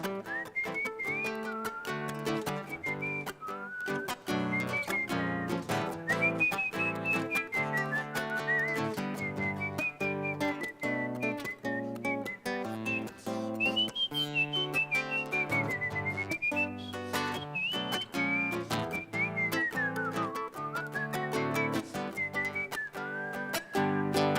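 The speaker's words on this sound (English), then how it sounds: "Whistling time." Someone whistles a lively, wavering melody over rhythmic music with guitar-like plucking, steady and fairly close throughout.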